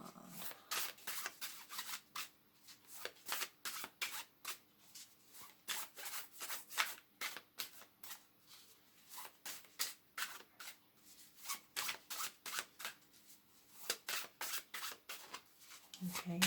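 A deck of tarot cards is shuffled by hand in quick, repeated riffles and slides, close and crisp, with bursts of rapid flicking separated by brief pauses.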